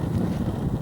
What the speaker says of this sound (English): It's a tiny amount of wind today